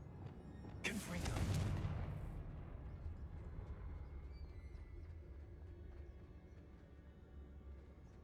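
A Confringo blasting spell in the Hogwarts Legacy video game lands with a single sharp, bright explosion about a second in. A rumbling tail fades over the next second or so, then only quiet game ambience remains.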